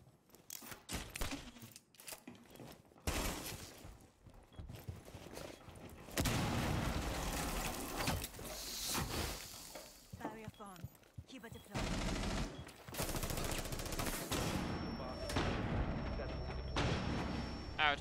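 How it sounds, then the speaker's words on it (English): Rainbow Six Siege firefight with bursts of rapid gunfire, booming blasts and grenade pops, ending in a sustained high-pitched flashbang ring. A player talks over the chaos. "Ouch, I got flashbang 3 times"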